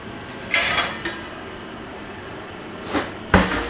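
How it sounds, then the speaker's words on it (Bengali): A plate being taken out in a home kitchen while a prawn and stalk dish cooks, with loud, close clanks of dishes and cutlery at the start and a sharp clatter near the end, without talk. "আর একটা থালা বের করে নিই।"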